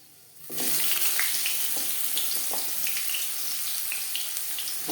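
Pumpkin pieces drop into hot refined oil with panch phoron for a Bengali shukto, setting off a sudden loud, steady sizzle that stays strong throughout, with small crackles and pops scattered over the hiss.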